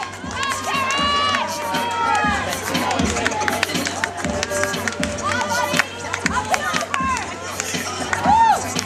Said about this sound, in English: You cheer these guys on